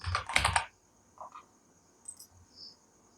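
Keystrokes on a computer keyboard while laying out a calendar in Adobe InDesign: a quick cluster of close clicks, then a few sparse, lighter taps in a quiet room.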